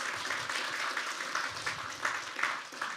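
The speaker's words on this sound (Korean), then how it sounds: "우리 자축의 박수 한번 부탁드립니다." An indoor audience at a Korean district office work-report meeting claps together, a soft, steady patter of applause held at a fairly quiet level throughout.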